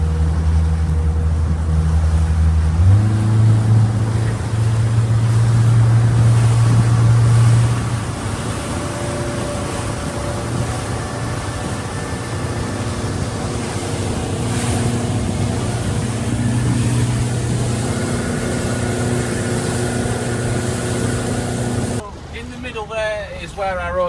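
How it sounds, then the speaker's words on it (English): A motorboat cruises on Lake Como over slightly choppy water, its engine a steady drone with a pitch change early on, water rushing and slapping against the hull, and a brief clatter near the end. "I'm just chilling out on the boat, nice and calm. A bit choppy in places, but not too bad."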